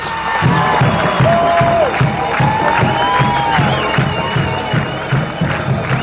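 A home crowd at a night high school football game cheers and shouts steadily as the Hereford White Faces sprint onto the field, with a marching band's rhythmic drums and horns playing over the noise.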